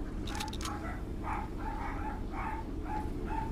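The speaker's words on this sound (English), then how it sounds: "I think they're barking at a cat probably." Dogs bark in a series of short, evenly spaced yelps, somewhat distant, over a constant low rumbling background noise.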